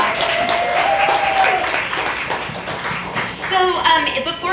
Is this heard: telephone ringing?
no